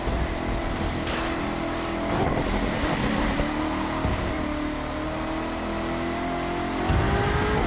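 A Chevrolet Corvette is driven through snow in The Crew 2, with a loud steady engine drone whose pitch shifts as the car revs and accelerates, plus a few brief knocks, and no voices.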